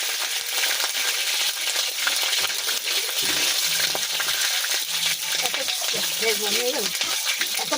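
Bay leaf and cumin crackle and splutter in hot oil, a loud, dense sizzle with sharp popping bursts throughout and a voice faintly audible partway through.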